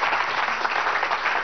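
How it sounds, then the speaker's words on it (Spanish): A crowd of people from Vargas applauds at an inauguration, steady dense clapping filling a short stretch without pause. "Aplauso para el pueblo de Vargas."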